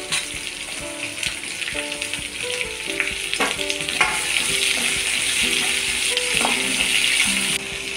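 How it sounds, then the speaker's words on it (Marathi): Onion and whole spices sizzling steadily in a pan with oil for paneer butter masala, a loud continuous fry with occasional stirring scrapes, close and without talk. "याच्यामध्ये कांदा टाकून घ्यायचा। सर्व मसाला हा भाजून घ्यायचा आहे।"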